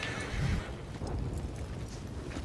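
Horse in Red Dead Online neighing and snorting with hoof clops, a short close whinny near the start followed by shuffling, no voices.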